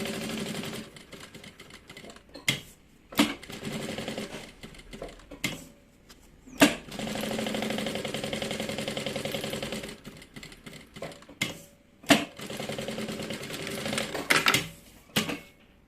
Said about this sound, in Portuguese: E agora é só costurar em volta todinho.